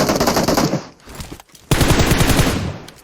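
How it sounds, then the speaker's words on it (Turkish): Automatic weapon fire in PUBG Mobile, loud rapid bursts close by, a pause of about half a second, then another sustained burst. "Biri daha sıkıyor."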